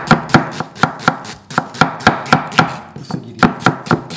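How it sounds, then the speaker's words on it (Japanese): An onion being sliced thin with a knife on a cutting board, a steady run of sharp, close chopping taps at a quick even rhythm, about three per second, with no talking. "好みなんですけど、玉ねぎ切ります。"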